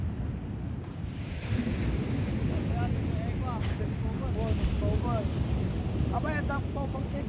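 Ocean waves on a beach send a continuous, loud, rushing roar with wind buffeting the microphone. Faint higher calls or voices come through in the distance.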